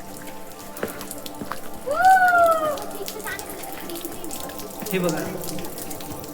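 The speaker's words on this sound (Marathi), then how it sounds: "हे झरे नॅचरल पाणी जो दगडातून निघणारं पाणी आहे" Natural spring water trickling out of rocks along a trail at Sinhagad fort, a soft steady patter under brief talk and a short voice.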